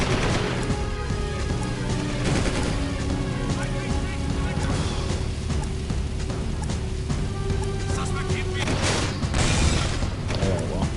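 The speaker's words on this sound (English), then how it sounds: "all this gunfire happening, all these people shooting at us," Dense game-world gunfire from Jak 2, with many shooters firing at once, crackles continuously for the whole stretch, loud and busy, layered over music and other game sounds.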